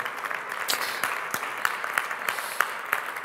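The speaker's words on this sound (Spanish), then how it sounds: "os pido un aplauso para Eduardo Gil" Audience applause at an energy conference on hydrogen, a quiet, fairly distant spatter of individual claps with distinct sharp hits standing out over a soft background of clapping.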